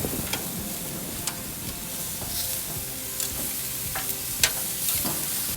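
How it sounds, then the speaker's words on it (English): Lamb chops sizzling on a grill for a biryani, close and steady with a continuous hiss and crackle, plus occasional light clicks and taps as the chops are flipped. "Lamb chops are grilled."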